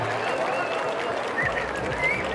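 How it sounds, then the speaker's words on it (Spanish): Applause at a rural bull festival in San Mateo Xalpa, a moderate patter of clapping from an outdoor crowd with whistles and voices mixed in, steady over the short stretch. "Fuerte el aplauso."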